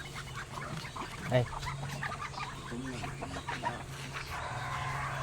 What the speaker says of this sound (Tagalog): Ito yung mga malalaking duck natin guys.